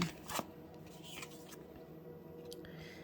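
Tarot cards are shuffled by hand during a reading, with a sharp riffle at the start, then soft, intermittent papery rustles and slides, quiet and close with no talking.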